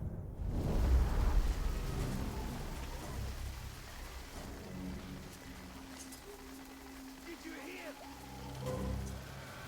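Steady rain in the video game Shadow of War patters under a low rumble of thunder, with a louder burst of noise at the start fading to a constant wash.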